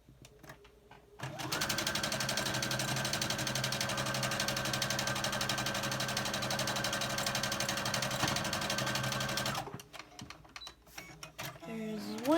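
A home sewing machine runs steadily while piecing quilt blocks, a close, even mechanical whir with fine rhythmic stitching, starting after a brief pause and stopping near the end before quiet handling noises.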